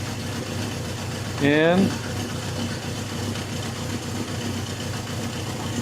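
Rebuilt Honda CB750 motorcycle engine with a new clutch idling, a steady low rumble heard nearby while a person speaks briefly over it.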